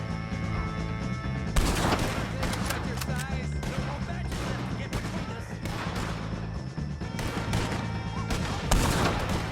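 Gunfire in the Red Dead Redemption 2 video game: dense, continuous shooting with bursts of cracks throughout, mixed with music and shouting voices.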